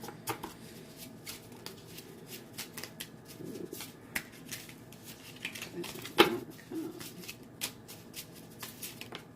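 Playing cards being shuffled by hand, a soft riffling and shuffling texture with small ticks and snaps, quiet and close, continuing throughout.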